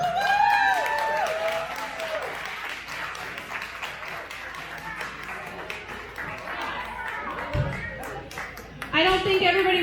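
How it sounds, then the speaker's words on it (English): An outdoor crowd claps and cheers at a pin-up contest during a car show, with scattered applause and whoops mixed with chatter and talking voices. The clapping swells again loudly at the end. "let's give them a really loud round of applause"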